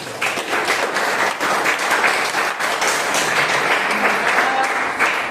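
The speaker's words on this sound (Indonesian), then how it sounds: "Tepuk tangan untuk kita semua" A group of students in a classroom lesson on artificial intelligence applauds together, a loud, continuous clatter of many hands that holds steady for several seconds, with faint voices mixed underneath.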